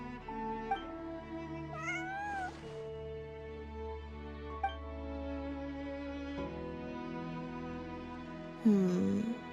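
Cat meows in the Genshin Impact video game, several drawn-out, sliding meows spaced out over game background music, the last one louder and close.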